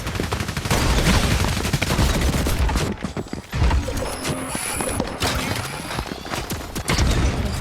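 Rapid bursts of turret fire in a first-person shooter 1v1 match, loud and dense through most of the stretch with mechanical clatter, pausing briefly near the middle before resuming.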